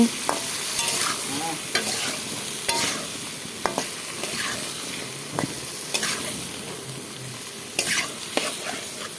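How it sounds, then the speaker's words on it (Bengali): Raw plantains fry in hot oil with a steady, close sizzle, while a utensil stirs through them in scraping strokes and sharp clacks against the pan every second or so. "কাঁচা কলাগুলোকে লাল লাল করে ভেজে নেবো"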